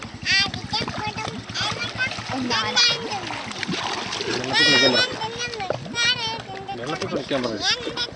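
Children shout and chatter excitedly while water splashes around them, the play noisy and close.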